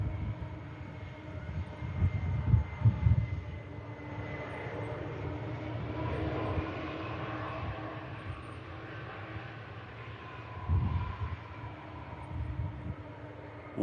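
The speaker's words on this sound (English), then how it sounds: "What an incredible landing that was. Challenge Airlines Boeing 747 here at Manchester Airport." A Challenge Airlines Boeing 747 lands at Manchester Airport, its engines roaring and rumbling at a distance, swelling in bursts and shifting in pitch before a renewed surge near the end; no talk.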